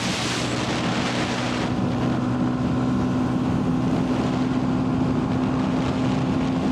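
A Yamaha XSR125 Legacy motorcycle engine running flat out at top speed, a steady sustained drone with a high whine, heavily buffeted by loud wind rush throughout.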